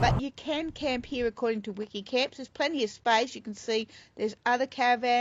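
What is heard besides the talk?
No distinct noise like a dog, phone or traffic.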